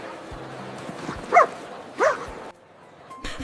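A little dog at an outdoor market gives two short, close barks, then a faint yip, over quiet background hum.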